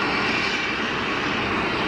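easyJet airliner starting its takeoff roll at Geneva Airport bound for Luton, jet engines giving a loud, close, steady roar with no voices.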